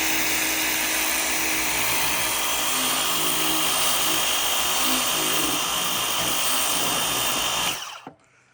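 Dewalt DCPW550 cordless power washer spraying to blast mold off a surface, a loud steady hissing spray with a faint motor whine running continuously, then cutting off abruptly near the end.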